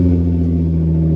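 A Nissan 350Z widebody drift car's engine rumbles loud and close, a deep steady throaty drone holding for a moment without talk.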